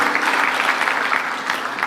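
A church congregation applauding during a sermon service, steady dense clapping throughout, moderately loud and close.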